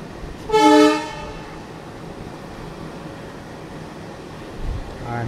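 An ALCo WDM-3D diesel locomotive on an Indian railway line sounds one loud, close horn blast of about half a second. Its engine then chugs and rumbles steadily underneath, with a faint second toot near the end.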